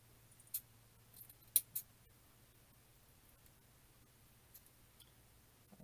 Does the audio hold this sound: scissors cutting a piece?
yes